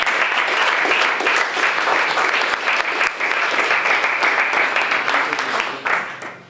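Sustained audience applause for Federico de María at an event marking thirty years of ecological economics, dense even clapping throughout that tapers off at the end.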